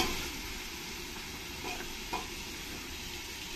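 Potatoes and carrots dropped into hot spiced oil for a vegetable pulao, giving a steady close sizzle and hiss with a couple of soft stirring knocks.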